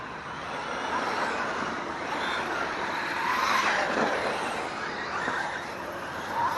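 A Traxxas WideMaxx RC truck with 3.8-inch wheels drives nearby, its electric motor giving a continuous whirring whine with gentle rises and falls in pitch, steady and moderately loud.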